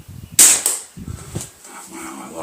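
A Weihrauch HW30K air rifle pellet strikes plywood with one sharp, loud crack, a second smaller knock just after, then a fainter impact later, with low rumbling background between.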